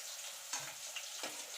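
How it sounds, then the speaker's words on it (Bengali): Garlic frying in oil in a pan for a cauliflower mash, a soft steady sizzling hiss with a couple of faint clinks, close and quiet, with no talking. "রসুনটা দেখুন ভাজা ভাজা হয়ে গেছে।"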